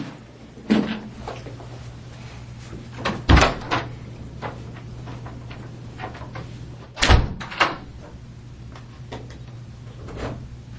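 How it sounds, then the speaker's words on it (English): An interior door bangs shut twice, each slam a sharp, loud impact over a quiet room hum, with smaller knocks and clatters of the door and frame scattered around the two main hits. "She storms out, slams the door"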